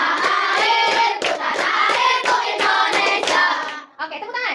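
A classroom of children clap their hands together in quick unison, a loud rhythmic run of claps that slows into a few scattered ones at the end, after a patriotic Indonesian song in a school lesson on local wisdom.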